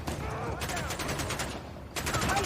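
Rapid gunfire rings out in the fantasy role-playing game Pillars of Eternity, a burst of sharp shots in quick succession, fairly close, with a brief lull before more firing.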